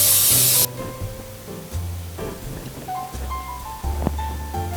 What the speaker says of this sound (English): I like baking cooking release. This or Baker's Joy spray, either one.